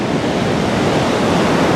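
Steady roar of ocean surf breaking along an Indian Ocean beach, loud and continuous with a broad hissing wash and no voices.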